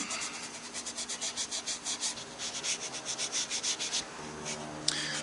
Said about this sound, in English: I'll take a little piece of quadruple aught steel wool and burnish each one with it.